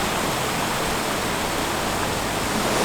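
Multnomah Falls near Portland, a steady, loud hiss and roar of falling water, unbroken and with no voices.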